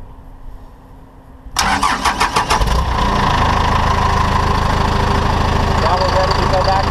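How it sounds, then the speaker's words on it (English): The diesel engine of a frac iron trailer with a Palfinger PK32080 crane cranks with a quick series of clattering pulses, catches, and settles into a loud, steady rumbling idle close by. "I'm going to start the engine."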